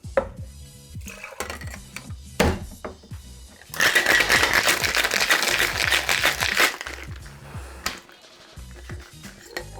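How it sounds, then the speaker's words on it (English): Ice rattling inside a metal cocktail shaker tin while mixing an Alexander cocktail, starting with scattered clinks and knocks, then a loud dense rapid rattle of shaking for a few seconds before settling back to sparse clatter. "we're going to add some ice to our shaker tin here, and we're going to shake this for a good 10 to 15 seconds"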